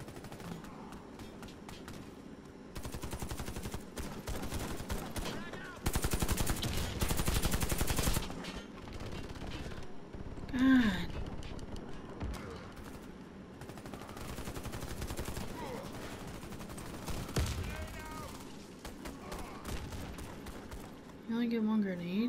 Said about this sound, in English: They're fucking shooting me like crazy.